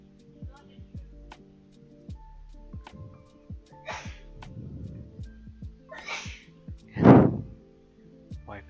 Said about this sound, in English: Wife is sneezing in the background.